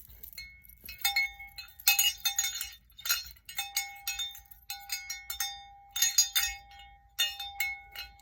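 A lower-pitched ringing bell in a quiet room, struck repeatedly with clinking, glassy strikes. The hits come in irregular bursts over several seconds, and each tone lingers briefly. It sounds close, with no talking.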